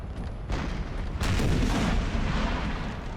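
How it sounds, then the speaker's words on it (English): Artillery fire in Napoleon Total War, deep booming cannon blasts rolling into a continuous rumble of battle, loud and low, two sharp onsets early on. "A good hit from the artillery"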